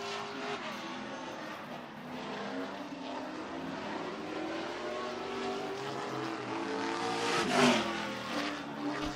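A late model race car laps a dirt speedway, engine note rising and falling as it circles at moderate distance, a steady mechanical drone with a brief louder swell near the end.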